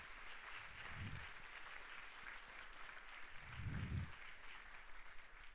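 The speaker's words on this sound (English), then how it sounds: "if you could just give them a round of applause, our Pitt alum who have agreed to come and speak" Audience clapping for alumni speakers at a university student leadership summit, a steady wash of applause that swells near the end, with no talk over it.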